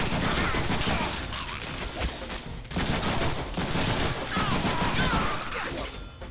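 Sustained rapid gunfire in the Deadpool video game, dense and loud bursts of shots filling the whole stretch with a brief break midway.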